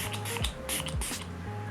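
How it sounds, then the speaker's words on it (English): Catrice Prime and Fine fixing spray misted onto a face, several short close pump-bottle spritzes in quick succession, each a brief airy burst. "I'm gonna melt down this makeup using the Prime and Fine Multitalent from Fixing Spray from Catrice."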